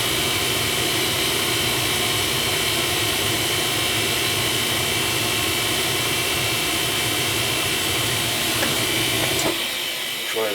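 Gas furnace burner firing up in a house: a steady, loud roaring rush of flame and blower that runs without a break and then drops sharply near the end.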